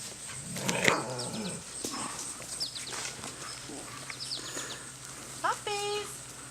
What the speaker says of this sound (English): There's a puppy.